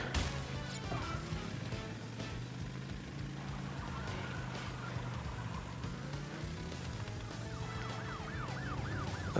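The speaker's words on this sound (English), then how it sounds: "Avoid the moving police car." Wailing police car siren in the Crash Bandicoot 3 platform game, rising and falling repeatedly over busy game music and effects, loudest toward the end.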